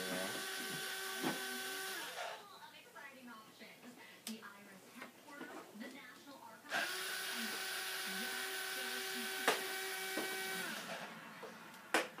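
A power drill spins in short bursts with a whining motor tone, removing screws from an HPI Savage RC truck, separated by stretches of clattering and handling noise; someone speaks briefly in between.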